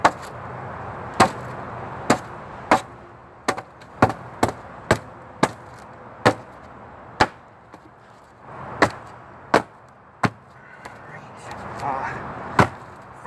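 Stone strikes sharply against another stone, carving tabletop terrain pieces: a series of crisp, close, loud knocks at an irregular pace, roughly every half-second to second, over faint background noise.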